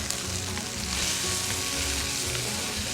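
Potatoes and onions fry in a pan with a dense, steady sizzle, loud and close, holding constant for the whole stretch with no voices over it.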